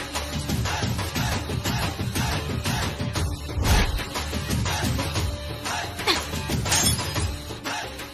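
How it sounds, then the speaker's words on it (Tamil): A glass bottle smashes and breaks during a dramatic TV serial scene, landing as sharp, crashing impacts within a dense, loud, continuous wash of noise and music. "தம்பி பாட்டில் உடைஞ்சிருச்சு."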